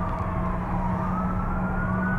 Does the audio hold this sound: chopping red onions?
no